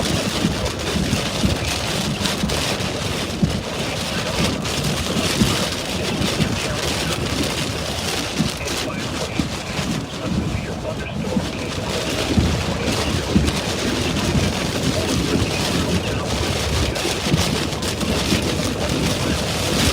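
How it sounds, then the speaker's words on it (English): Dense, steady roar of heavy rain pelting a car during an Iowa derecho storm in December, with wind buffeting throughout and no letup. "we're not being pelted with rain and everything"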